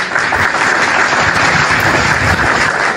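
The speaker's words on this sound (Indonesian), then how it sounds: "Oke, tepuk tangan dulu." Steady, dense applause from an audience at a religious talk or sermon in Indonesian, continuous clapping filling the whole stretch at even loudness.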